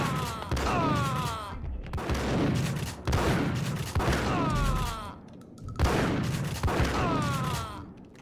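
Gunfire in the Max Payne shooter game, loud repeated volleys of shots that come in bursts with short gaps, over a busy action backdrop of crashes and thuds.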